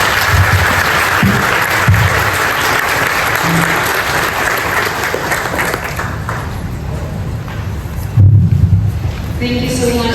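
Loud sustained applause from an audience at a university employer networking talk show, thick clapping that fades gradually, with a voice speaking over it and brief louder bumps near the end.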